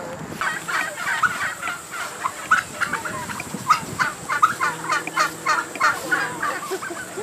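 Heritage-breed turkeys gobbling repeatedly, a chorus of rapid rattling gobbles from several birds nearby, coming in bursts.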